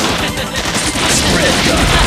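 Rapid machine gun fire in the arcade-style game Bot Vice, a dense, loud burst of shots that keeps going over game noise, with a voice briefly in the mix.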